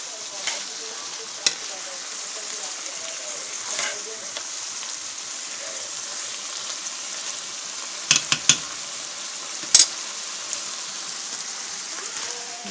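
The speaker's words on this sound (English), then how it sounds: "I have ground turkey, mushrooms, some green pepper, some onions frying up in this pan" Ground turkey, mushrooms, green pepper and onions fry in a pan with a steady soft sizzle, broken by a few brief clinks and scraping stirs.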